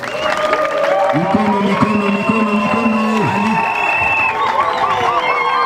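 A crowd at a bridge inauguration ceremony in Uvira, South Kivu applauds and cheers steadily throughout, mixed with tonal horns or chanting-like sounds, moderately loud and dense.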